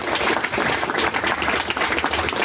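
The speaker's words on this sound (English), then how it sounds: "Round of applause for Grace." A meetup audience applauding a pitch presenter steadily, dense clapping throughout at a fairly loud level with no voices.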